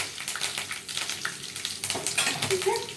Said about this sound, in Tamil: எண்ணெய் நல்லா காஞ்சிருந்தாலும் இதில் கருவேப்பிலை, சீரகம், கடுகு